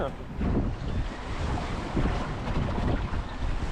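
Waves rocking a sailing boat at sea off Roscoff, with water sloshing and surf against the hull under strong wind buffeting the microphone, loud and continuous with no talking.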